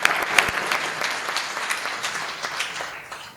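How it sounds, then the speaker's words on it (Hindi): An audience at a Hindi comedy poetry gathering applauds to welcome a poet: a burst of brisk clapping with sharp individual claps on top, fading gradually as it goes on. "भाई रसिक गुप्ता का बहुत जोरदार तालियों से स्वागत करिए"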